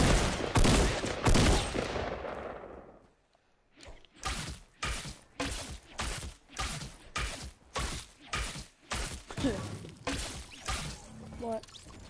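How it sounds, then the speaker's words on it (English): Rapid run of suppressed pistol shots in a first-person shooter, about a dozen sharp muffled cracks at a steady rhythm after an opening burst of louder game noise and a brief pause. "It's a suppressed pistol."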